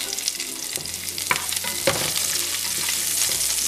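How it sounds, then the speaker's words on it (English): Scallion whites sizzle in hot butter in a pan over medium heat, giving a steady bright crackle with a few sharper pops and stirring scrapes, close and alone. "into our butter, we're still on medium heat. We're gonna add our scallion whites. So I'll put those right in. That pan is nice and hot."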